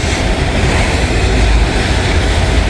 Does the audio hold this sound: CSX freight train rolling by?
yes